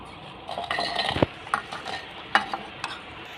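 Chopped green chillies and small onions tipped into a pan for a pointed gourd dish, with spoon clatter and scraping against the metal, a few sharp clinks and a faint sizzle, close and alone.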